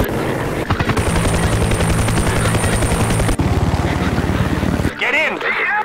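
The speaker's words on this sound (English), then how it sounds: "Two choppers flying out." Helicopters in the video game Garry's Mod fly with a loud, steady rotor thump and turbine whine that holds for several seconds, then cuts out into a brief stretch of other game noise.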